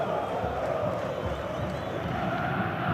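Corinthians supporters at Pacaembu stadium during a 2005 Brazilian championship match against Santos, a steady, distant roar of a large crowd cheering and chanting without breaks.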